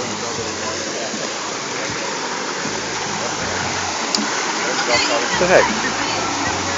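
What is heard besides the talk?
waterfall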